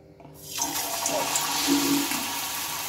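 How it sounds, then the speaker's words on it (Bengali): Gram flour batter fritters dropped into hot oil, setting off a sudden sizzle that swells within half a second and keeps up as a steady, fairly loud hiss; no talking. "এবার চামচে করে তুলবো আর তেলের মধ্যে কিন্তু আমি দিয়ে নেব"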